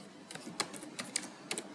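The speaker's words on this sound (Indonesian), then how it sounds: "misalkan saya ingin mengetik public health" Fast, light clicking of someone typing on a computer keyboard, a quick irregular patter of keystrokes, close but quiet against a soft background hiss.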